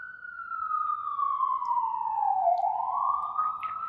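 Passing emergency sirens wail in a long sliding tone that dips and then rises again, loud and steady against low background rumble.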